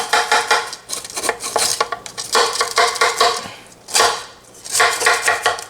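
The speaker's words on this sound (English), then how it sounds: "Let's get a knife and run it all the way through" Knife scraping and clinking against a baking pan as it is run around the sides of baked rigatoni in vodka sauce, in loud repeated bursts of metallic scraping up close.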